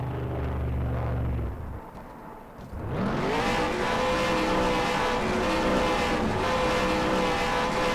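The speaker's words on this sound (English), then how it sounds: "Let him do his burnout" A stock car doing a burnout in a racing video game: a loud, steady engine roar holds at high revs after a brief dip, close and continuous, with no talk over it.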